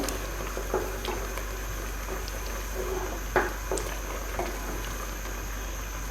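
Arum spinach (kochu shak) lentil dal with fish pieces and tamarind comes to a steady rolling boil in a pot, a close, continuous bubbling with a few soft pops and clicks.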